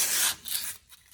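Sandpaper of medium coarseness rubbed by hand over a wheel seal surface on a 2003 Ford F350 rear axle, a short close rasping stroke or two fading out.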